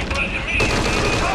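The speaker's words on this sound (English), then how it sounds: "We're hearing gunfire." Rapid bursts of gunfire from the stealth video game Metal Gear Solid V, dense and continuous over a layered game soundscape with a busier stretch partway through, no voices spoken.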